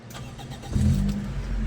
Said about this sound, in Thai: อันนี้เรามาลองสตาร์ทดูนะครับ